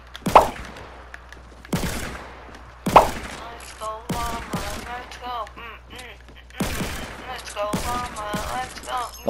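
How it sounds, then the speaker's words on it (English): Gunfire in the Fortnite video game: loud, sharp shots and short rapid bursts recur throughout, some close and heavy, others quicker and lighter, with players talking in between. "No, I hear so much shooting."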